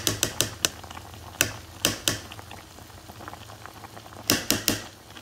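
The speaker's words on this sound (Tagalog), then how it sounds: "Tapos takpan ulit natin, pakuluan hanggat sa lumambot." Mechado beef stew with tomato paste boils in a covered pot, giving off sharp, irregular clicking pops in small clusters over a low simmering hiss, with no talking.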